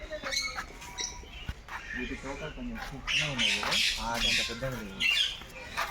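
Several parakeets squawk and chirp shrilly up close at a zoo, overlapping calls rising and falling, with a person speaking among them.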